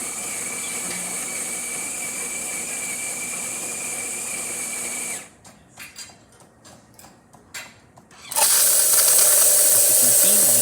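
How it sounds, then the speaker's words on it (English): Steam escaping from a Jura Impressa Z5 coffee machine: a loud, steady hiss, then a few seconds of near quiet with faint ticking clicks, then an even louder burst of hissing. "Steady steam coming out of the machine, excellent temperature, working really great, really good pressure."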